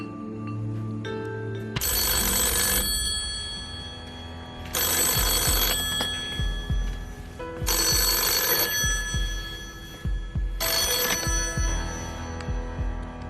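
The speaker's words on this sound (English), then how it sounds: "when this phone call comes" Telephone ringing on a game show set, four long electronic ring bursts separated by short gaps, loud and clear with no talk over it.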